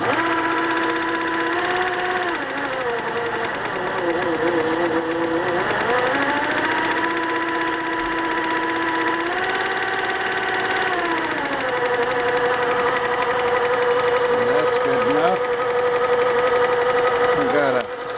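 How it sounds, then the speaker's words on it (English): A Vevor MX600 metal lathe runs continuously at close range, its motor whine shifting pitch in steps, with a faint rhythmic clank from dirt caught inside the mechanism. "Piece of dirt or something in there, that's why it's clanking."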